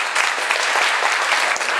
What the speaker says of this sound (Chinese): 要不要鼓励掌声